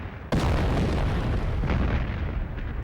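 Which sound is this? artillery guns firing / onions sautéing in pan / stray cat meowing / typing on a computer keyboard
artillery guns firing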